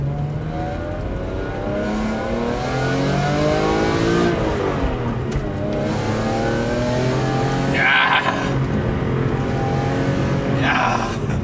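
A manual BMW E46 M3 revs hard while driving, its engine note climbing in repeated rising sweeps toward high rpm. The sound is loud, close and continuous throughout, with no talk over it.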